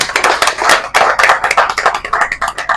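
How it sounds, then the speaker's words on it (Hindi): At a Bihar postal week ceremony, an audience claps loudly and close by, a rapid run of sharp individual hand claps that continues unbroken. "तालियां।"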